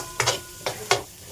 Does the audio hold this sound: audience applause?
no